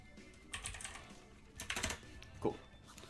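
Quick bursts of key presses on a computer keyboard as a short message is typed during a Pokemon Scarlet and Violet competitive match, a few clustered clicks close up with quiet gaps between them.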